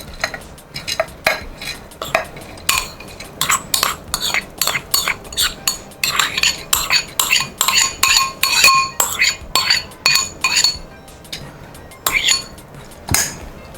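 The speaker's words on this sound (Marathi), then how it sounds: "हे मिक्सरचं पात्र मी आणलेलं आहे ह्या सगळ्या मिक्स करून मी याच्यात घालते आता ही मुगाची सालाची डाळ मी याच्यात घालते" Split green moong dal with skins pours into a steel mixer jar for a Marathi-style dhokla, a quick run of close, bright rattling clinks and patters that comes in bursts over about fourteen seconds, with short pauses between pours.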